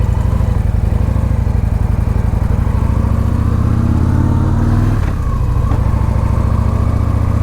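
Victory Vision touring motorcycle riding through an intersection, a loud, close, throbbing engine note that holds steady, dips briefly midway, then picks up again, heard alone.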